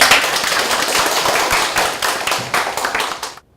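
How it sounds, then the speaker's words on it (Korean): Dense, loud applause from a lecture audience of organic farmers in Buyeo County, South Chungcheong, steady clapping that fills the room for several seconds before cutting off abruptly. "큰 박수로 좀 부탁드리겠습니다."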